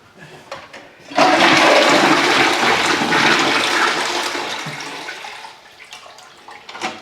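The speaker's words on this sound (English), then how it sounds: "Can't believe we have another flushing toilet." A toilet flushes loudly and close by in a rushing surge of water that starts abruptly, holds for several seconds, then gradually tapers into trickling refill.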